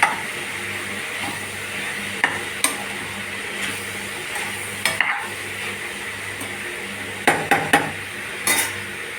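A prawn and ridge gourd curry is stirred in a pan, giving a soft steady sizzle with several sharp scraping knocks of the spoon against the metal at irregular intervals, close up and without talk.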